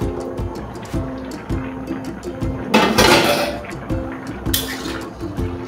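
A lid comes off a pot of village-style navaratna khichuri, rice and mung dal cooked soft, with two bright clattering bursts of metal over a steady run of small ticking kitchen clicks; no voices.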